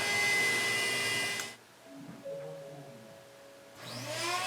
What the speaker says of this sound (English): The central vac turning on.